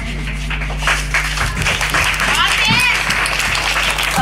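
Applause from an audience at an M.D.M School event, many hands clapping steadily over a low constant hum, with a voice and some feedback-like tones rising over the clapping partway through.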